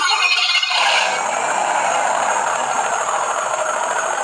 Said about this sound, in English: right there the throttle again to hear the engine.